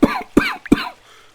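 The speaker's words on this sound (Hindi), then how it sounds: "बीमार ससुर खटिया पर पड़े खांस रहे थे" A sick elderly father-in-law lying on a cot in a cartoon coughs three times in quick succession, harsh and close, with a short pause before each and a quiet tail after.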